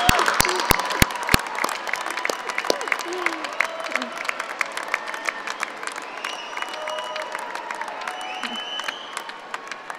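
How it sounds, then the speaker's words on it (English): A university commencement crowd bursts into applause, opening with a few loud separate claps before settling into dense, sustained clapping with scattered cheers and voices in the hall. "Let us salute them with our applause."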